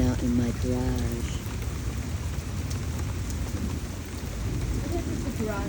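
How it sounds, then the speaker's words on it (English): A heavy tropical rainstorm in Florida pours down steadily, heard from a partly open garage carport, with low rumbling thunder under the dense hiss of rain and a faint voice at the start. "I'm enjoying the rain out in my garage."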